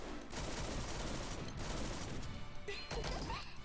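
Dense, continuous gunfire in Granblue Fantasy shooting at an enemy, loud rapid bursts blurring into a sustained crackling barrage with only brief dips before it ends.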